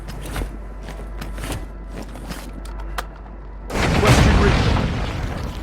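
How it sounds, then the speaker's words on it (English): Heavy precision airstrike explosions in the Warzone Mobile battle royale shooter: scattered thumps and gunfire-like pops, then a loud, sustained rumbling blast that rolls on to the end. "Enemy precision airstrike."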